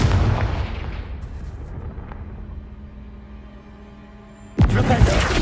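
A Confringo fire spell in Hogwarts Legacy goes off as a booming blast that rumbles and fades into a low hum, then another sharp, loud explosion hits near the end.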